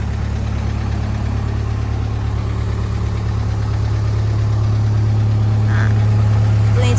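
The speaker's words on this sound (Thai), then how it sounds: "ตัวนี้จะเป็นเครื่องยนต์ดีเซลนะคะ" The diesel engine of a JLG 450AJ boom lift idles nearby with a steady low rumble and faint knocking vibration, unchanging throughout.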